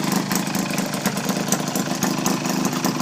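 A 1937 Maytag twin-cylinder washing machine engine with original parts, new spark plugs and an exhaust hose fitted, idling steadily with a rapid, even putter, close and fairly loud.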